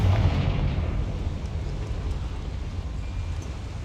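A Confringo blasting spell in Hogwarts Legacy, heard as a deep, rumbling explosion that rolls on as a steady low roar, with no clear crack and no voices.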